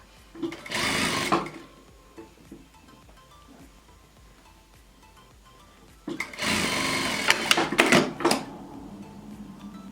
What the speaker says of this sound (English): And we sew a straight little seam on the short side.